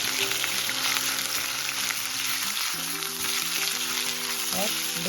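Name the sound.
ginger being roasted in a pan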